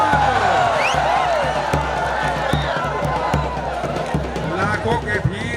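A huge crowd at a wrestling dangal roars and cheers in the open, a continuous swell of voices with whoops and whistles, while a commentator speaks loudly over it.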